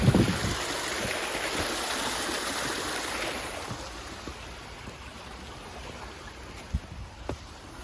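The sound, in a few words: small stream of water flowing in woods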